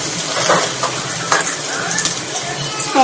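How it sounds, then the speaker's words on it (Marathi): Chopped garlic and onion sizzling and crackling steadily in hot oil in a pan for Hakka noodles, with a few stirring scrapes and utensil clinks up close. "आता टाकते मी लसणीचे तुकडे, कापलेली लसणी"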